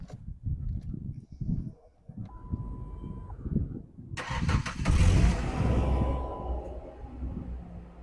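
A 1999 Mazda B2500 pickup with an exhaust leak cranks and fires up, then settles into a loud, rough idle with an exhaust rumble, close by, after a stretch of low mechanical shuffling and brief muffled voices.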